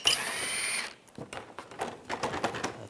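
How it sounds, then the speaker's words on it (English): An 8mm socket on a ratchet backs out a bolt on a 2013-2016 Dodge Dart during front lower control arm work, with a steady clicking rattle, then a brief lull and a series of uneven close clicks. "this is a 8mm socket I'm going to use to take this one out"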